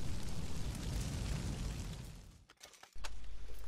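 Incendiary ammo from Red Dead Redemption 2 bursting into fire, a loud, close roaring blast that rumbles and crackles, dips briefly into near silence, then flares back up strongly.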